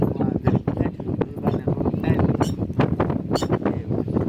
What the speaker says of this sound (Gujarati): ને પવનનો અવાજ આવે છે.